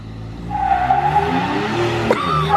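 A Foxbody Ford Mustang does a one-wheel burnout, its tire screeching in a long sustained squeal over the low engine roar, loud and close, with a brief sharp burst near the end.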